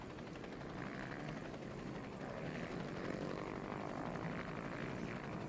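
A helicopter flying over the Enduropale du Touquet quad race on a beach circuit: a steady, distant rotor and engine drone, fairly faint and continuous throughout, with no voices.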